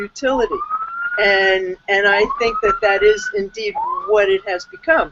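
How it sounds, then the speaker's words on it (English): A siren wails in rising sweeps again and again in the background in New York City while a person keeps talking over it. "I'm sorry about the sirens."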